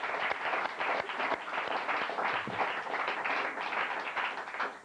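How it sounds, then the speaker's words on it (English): Studio audience at a late-night show breaks into steady applause, dense clapping filling the room for about five seconds without speech. "please give a nice round of applause for John Steiger."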